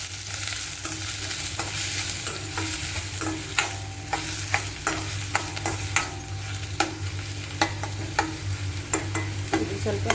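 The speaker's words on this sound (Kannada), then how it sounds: "ಇದು ಸ್ವಲ್ಪ ಫ್ರೈ ಆದ ನಂತರ ಈಗ ಈರುಳ್ಳಿಯನ್ನು ಹಾಕೊಂಡಿದ್ದೀನಿ" Curry leaves, green chilies and onions fry in a pan, a steady close sizzle and crackle broken by a regular run of sharp scrapes and taps as they are stirred, with no voices.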